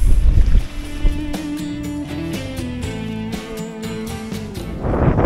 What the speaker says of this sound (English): Sorry about the wind, you might not be able to hear me very well